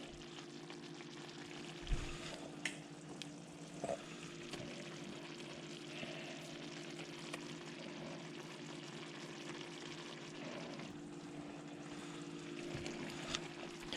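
Potatoes frying in a pan alongside catfish fillets give a steady, close sizzle with a constant low hum underneath and a few brief knocks, with no talking.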